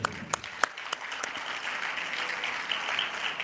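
An audience at a Bangladeshi student organisation's national meeting claps together in a steady, dense wash of applause. A few sharp claps stand out at the start, then it settles into an even, continuous roar.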